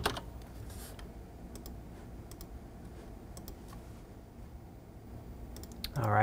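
Computer keyboard typing while tax information is entered, sparse light clicks and key taps at a steady low level, with a louder sharp rattle at the very end.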